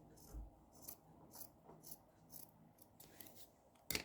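Scissors snip through the stitches of a knitted bolero or sweater in a series of soft, close, rhythmic crisp cuts, spaced about half a second apart, with a faint rustle of fabric and a sharp scrape at the end.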